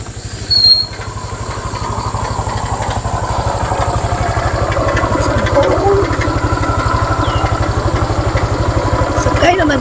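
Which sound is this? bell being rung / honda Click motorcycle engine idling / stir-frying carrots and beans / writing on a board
honda Click motorcycle engine idling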